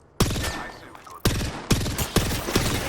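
Rapid bursts of gunfire ring out in a battle royale video game, several loud close volleys of automatic shots following one another in quick succession.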